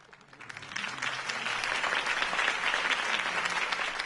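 A crowd at a Gotham City campaign speech for Harvey Dent in the Batman Telltale video game bursts into applause that swells from soft to full, sustained clapping heard at a slight distance.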